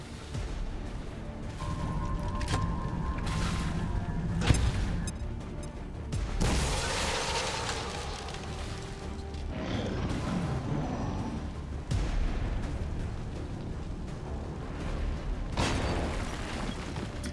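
A grenade going off in the XCOM strategy game, heard as a heavy blast with a sharp crack that rumbles away, followed by more booming hits and game noise at a steady level with no voice.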